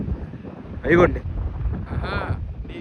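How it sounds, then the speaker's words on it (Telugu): Strong, heavy wind near fast-spinning wind turbines in Ballari roars steadily against the microphone, while brief voices break through twice. "బాగా హెవీగా వస్తుంది గాలి"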